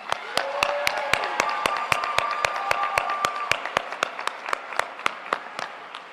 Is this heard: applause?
yes